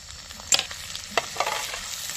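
Chopped tomatoes go into hot oil with garlic that is already fried, giving a soft, continuous sizzle punctuated by a few sharp clinks and scrapes of stirring. It is close and fairly quiet, with no talking.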